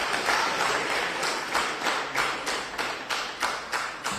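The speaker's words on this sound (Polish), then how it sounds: "gromkie brawa" Applause in the Polish Sejm, a dense crowd clapping steadily with rhythmic surges roughly every third of a second, moderately loud and without talk.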